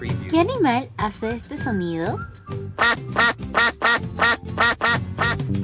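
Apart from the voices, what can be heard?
duck quacking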